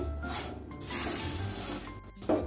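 A utensil scrapes and rubs through vermicelli and sugar in a pan over low heat, soft continuous stirring strokes close by, fairly quiet, with a sharper clink near the end.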